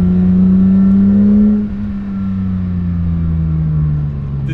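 Porsche GT3 with a titanium exhaust, idling and revving loudly and close up, a steady deep engine note that swells briefly then settles into a smooth, continuous drone.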